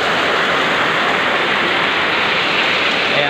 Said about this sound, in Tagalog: ingat-ingat po tayo pag ganitong malakas ang ulan